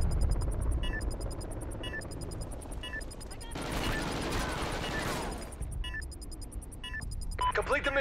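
Planted bomb in a video game beeping in a steady repeating pattern of short high-pitched pulses, with noisy gunfire bursts and rumble in the middle of the round.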